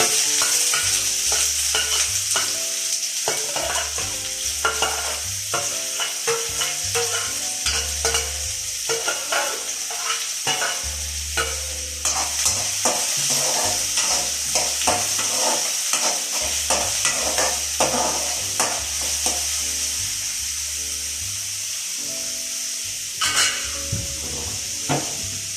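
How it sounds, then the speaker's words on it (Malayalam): Sliced onion goes into hot oil with already-popped mustard seeds for a homestyle Kerala pasta: a steady close sizzle runs throughout, broken by frequent clattering scrapes of a spoon stirring against the pan. "സവാളയും ചേർത്തതും നമുക്ക് ഇതിനകത്തേക്ക് ആഡ്"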